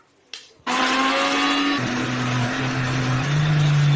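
After a brief clatter, a mixer grinder whirs loudly and steadily, its motor pitch shifting slightly as it grinds brinjal chutney coarsely.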